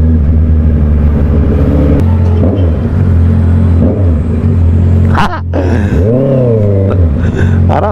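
A 2023 Honda CBR650R motorcycle rumbles loudly and steadily through its exhaust up close, then blips the throttle in a sharp rev that rises and falls before settling back into a deep idle.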